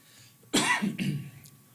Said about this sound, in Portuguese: a minha tosse é uma tosse alérgica do tempo seco